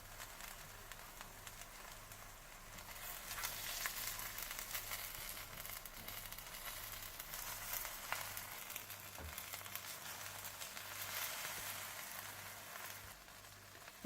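Bihari boti sizzles softly in a pan while the pieces are flipped, a faint, even frying hiss with occasional small crackles, heard alone with no voices.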